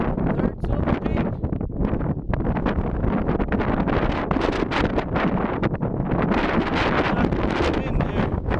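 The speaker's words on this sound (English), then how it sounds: "Wind here." Strong, gusting wind buffets the microphone on the exposed summit of Cairn Mountain, a loud, unbroken roar with surging gusts throughout.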